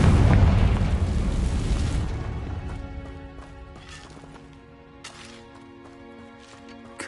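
A Confringo spell blast goes off in Hogwarts Legacy: a loud, booming explosion that rumbles and slowly fades over a few seconds, followed by quieter magical shimmers and small impacts.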